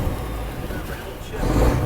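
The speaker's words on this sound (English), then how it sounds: "Revving up the engine." A pump boat's engine, recently repaired after breaking down, revs up from a low rumble to a louder, throatier roar near the end, heard close by.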